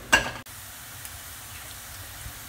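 Meat being turned while frying in a pan gives a brief loud stir and clatter at the start, then a faint, steady sizzle that continues alone.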